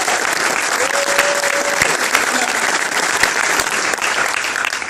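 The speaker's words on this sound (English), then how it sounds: "All of you, give yourselves a round of applause." A conference hall audience of union members claps together, loud and dense, with sharp individual claps standing out from the steady roar and a brief tone near the start.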